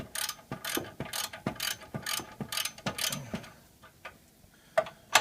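A hand ratchet loosens the 18 mm caliper bracket bolts on the front brakes of a 2001 Ford Expedition, giving a series of sharp, close clicking strokes in an irregular rhythm with short pauses between them.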